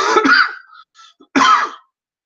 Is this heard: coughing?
yes